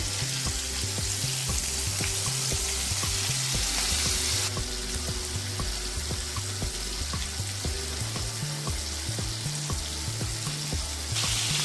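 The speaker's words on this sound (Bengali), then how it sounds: "এই মাছগুলোকে একটা করে আটা মাখিয়ে ছেড়ে দেব" Flour-coated lote fish frying in hot oil, giving a steady, dense sizzle that runs unbroken throughout, close and loud, with no voices.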